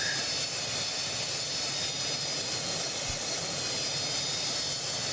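A retiring Boeing 727 in a flight simulator game taxis at Southampton toward the cargo terminal, its jet engines a loud, steady roar and whine that fills the scene without speech.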